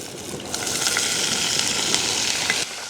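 Whole onions and garlic frying in oil for village-style onion curry, a dense, even sizzle and crackle close by, holding steady for a few seconds with no talking.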